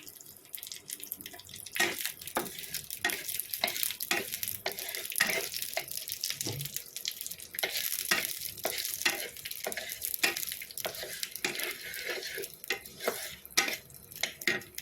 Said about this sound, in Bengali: এবার আমি এর মধ্যে রসুন দিয়ে দিচ্ছি ছ থেকে সাতটা